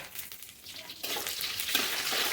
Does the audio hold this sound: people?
no